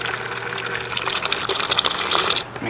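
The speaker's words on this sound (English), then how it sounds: "This is how I add the mash water, a gallon at a time." Mash water poured onto Pilsner malt for home beer brewing, a steady close gush of liquid filling a vessel that splashes more as it goes, then stops abruptly near the end.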